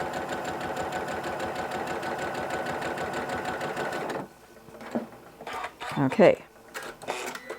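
A sewing machine stitches quilt strips together in a steady, rapid mechanical whir for about four seconds, then stops. Clicks and handling noises follow, with a brief spoken word.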